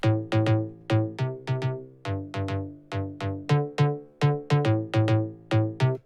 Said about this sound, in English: So now we have a plug bass as well,